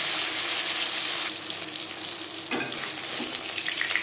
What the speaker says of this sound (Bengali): মাছ একটা সাইড ভাজা হয়ে গেলে